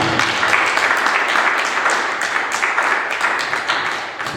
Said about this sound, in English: Let's give another round of applause for Arianna.